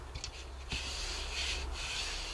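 A gel print being rubbed down hard by hand, with short close scuffing rubs and brief pauses between strokes, fairly quiet with no talk.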